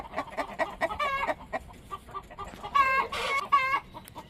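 Rooster crows and clucks in short bursts near a farmyard, several loud calls with gaps of quieter clucking between them, no speech.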